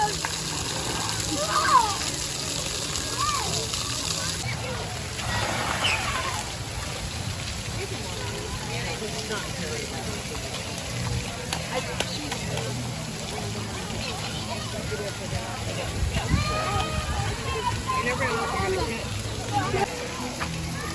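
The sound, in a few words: water running at a zoo hand washing station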